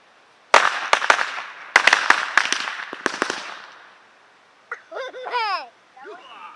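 Bottle rockets go off outdoors in a rapid run of sharp, loud pops and bangs over about three seconds, fading into quiet before whistling, warbling squeals rise at the end.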